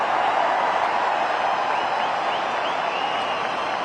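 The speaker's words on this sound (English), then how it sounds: "The crowd's loving it." Cricket crowd in a large stadium applauding MS Dhoni's boundary against Australia, a broad, steady wash of clapping and cheering at a distance, sustained throughout.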